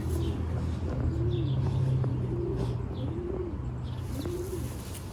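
Tippler pigeons coo in repeated soft, rolling phrases at a steady rhythm, close by, over a low background hum.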